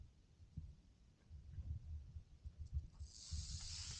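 A sidewinder rattlesnake starts rattling partway through, a faint, dry, hissing buzz that rises over a quiet, rumbling outdoor background and then holds steady.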